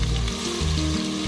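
Green chili paste fries in a hot pan as a dense, continuous sizzle with a bubbling crackle, loud and close throughout the short moment.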